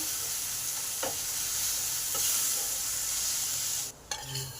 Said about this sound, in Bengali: এই মশলাটাকে একটু ভালো করে কষে নেব